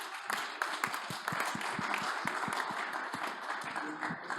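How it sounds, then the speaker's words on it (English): Audience applause at a startup pitch event, a steady wash of many hands clapping throughout with dense overlapping claps at moderate loudness and no one speaking over it. "Applause, please."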